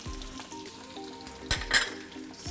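Sliced shallot, ginger and garlic fry in hot oil alongside crispy curry leaves, a steady close sizzle with a few sharper crackling spikes midway and no talking.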